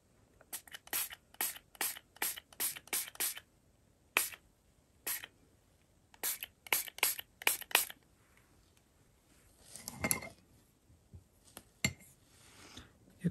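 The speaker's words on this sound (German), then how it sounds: "So, dann sprühen wir da oben." A hand spray bottle mists water onto a junk journal page in quick bursts of sharp spritzes, a rapid run followed by a few more spaced squirts, close and alone.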